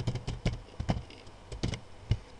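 Quick typing on a computer keyboard, a short run of close, crisp key clicks in an uneven rhythm, alone without talk.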